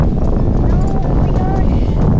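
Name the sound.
strong wind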